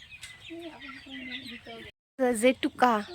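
Local farm chickens clucking close by, a run of soft clucks followed by a gap of silence and then several sharper, louder squawking calls.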